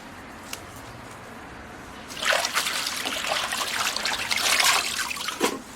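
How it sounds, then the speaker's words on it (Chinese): Vegetables are washed by hand under cold running tap water, starting with a faint trickle and then louder splashing and rustling for several seconds. "就用凉水洗也不冷"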